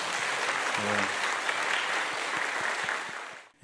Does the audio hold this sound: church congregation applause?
yes